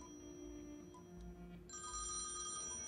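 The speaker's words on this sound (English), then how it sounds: "Phone ringing." A telephone rings in the hotel in the point-and-click adventure game Thimbleweed Park, a bright, electronic-sounding bell that starts after a stretch of quiet game ambience and keeps ringing to the end.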